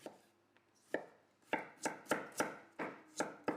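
A knife slices garlic and ginger into matchsticks on a cutting board, sharp close taps that start sparse and then settle into a steady rhythm of about eight cuts, with no talk.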